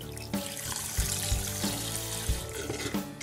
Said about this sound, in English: I'm gonna put some more water in there.